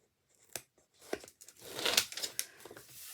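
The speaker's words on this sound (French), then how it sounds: "Ensuite, vous décollez tout votre double face" Double-sided tape backing peeled away on a paper craft cover, a few short ripping tears followed by a longer crinkling strip pull, close and fairly quiet.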